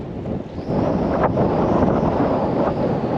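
Strong gusting wind buffets the microphone beside a river while fishing with soft plastic lures, a continuous loud low roar that surges and stays close throughout, with no talk.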